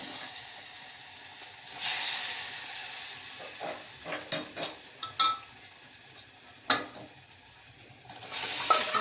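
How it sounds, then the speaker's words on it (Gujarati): Dal being tempered with asafoetida and chilli powder in hot oil: a close, steady sizzle and fry that flares louder partway through, with several sharp spoon clanks and stirring strokes against the pot, no voices. "હવે તેમાં હિંગ ને મરચાંનો ભૂકો ઉમેરી દાળ આપણે વઘાર કરીશું."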